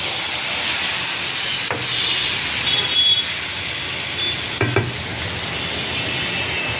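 Spices sizzle steadily in a hot pan in a small home balcony kitchen, a constant loud hiss with a couple of brief clinks.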